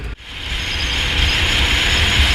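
Train cars roll past very close, a loud steady rumbling roar with a faint high squeal that builds slightly and stays constant.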